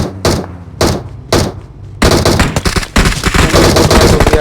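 Groza assault rifle fire in the mobile game PUBG Mobile: three loud separate shots, then a sustained rapid burst of automatic fire, close and punchy.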